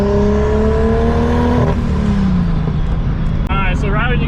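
An RB25-powered Nissan 240sx S13 engine revs loud and close, its pitch rising then falling off as the throttle lifts, with intake and exhaust roar and a voice talking briefly underneath.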